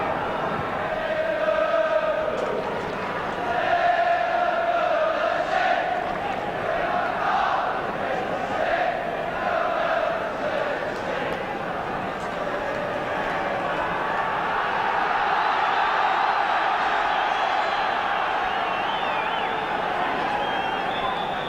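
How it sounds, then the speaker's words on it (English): A large football crowd at Anfield roars and chants continuously, a dense far-off wash of voices for the 1987/88 Liverpool versus Nottingham Forest match. "Another sizable crowd at Anfield, all the seats sold for this match well in advance."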